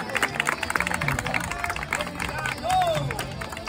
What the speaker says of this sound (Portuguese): gostou, pode aplaudir o pessoal